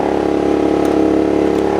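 A Sportsman GEN3500i inverter generator running under a 1500 watt load, giving a loud, steady engine hum with an even buzzing tone, recorded up close with no talk.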